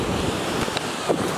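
Surf breaking and washing against a jetty at an inlet, a steady broadband rush of ocean waves with gusts of wind buffeting the microphone throughout.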